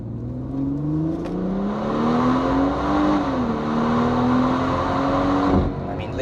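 A BMW M140i climbs a Swiss mountain pass with its engine revving hard and rising steadily in pitch through the gears, close and loud, dropping briefly at a shift and then cutting off near the end.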